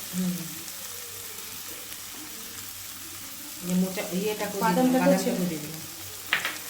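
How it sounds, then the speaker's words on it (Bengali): Gobindobhog rice and fried potatoes dropped into a pan with green chili, a soft sizzle that swells midway into louder frying and stirring, with a faint voice and a clink at the end. "গোবিন্দভোগ চাল আর আলু ভাজাটাকে ছেড়ে দিল"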